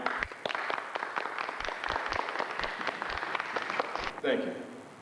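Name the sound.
audience applause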